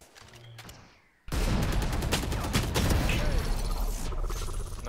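Sustained automatic gunfire from the shooter Valorant, loud and dense after a quieter opening second, firing rapidly and continuously to the end.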